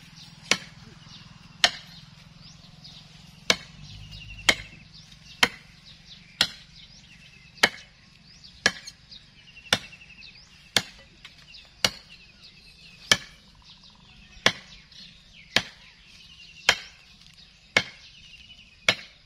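Sharp, steady chops ring out one after another at an even pace, a cutting blade striking hanging tree branches outdoors with soft ambience between strikes.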